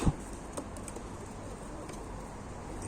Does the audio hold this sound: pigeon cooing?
yes